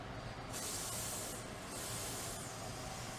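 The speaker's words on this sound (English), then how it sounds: "I just spray the crap out of the brush" Three bursts of degreaser spray hiss onto a bike-cleaning brush, each starting sharply and fading into steady hiss, close up with no voices.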